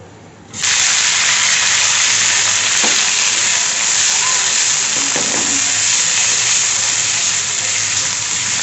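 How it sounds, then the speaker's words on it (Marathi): A coconut, ginger, garlic and coriander paste dropped into hot oil in a heated kadhai bursts into a loud, steady sizzle that starts abruptly and holds, close and dense. "कढई तापलेली आहे आणि त्याच्यामध्ये मी आपण तेल टाकून घेऊयात खोबरं आलं लसूण आणि कोथिंबीर याचं वाटण आहे हे"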